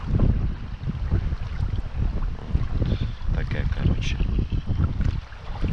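Steady, blustery wind buffets the microphone with low rumbling gusts throughout, outdoors near water while feeder fishing.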